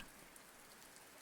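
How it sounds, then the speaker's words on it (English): Drizzling rain falls steadily, a faint, even patter and hiss with no distinct drops standing out and no voices. "through the drizzling rain."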